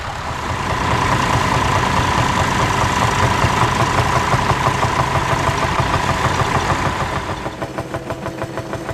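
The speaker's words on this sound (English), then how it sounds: "It's nice to see this Marshall tractor and 3-furrow plough at work" A Marshall tractor pulls a 3-furrow plough at a ploughing match, its engine a steady, loud mid-pitched drone with a knocking pulse that holds for most of the stretch before easing slightly near the end.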